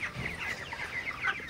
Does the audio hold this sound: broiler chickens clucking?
yes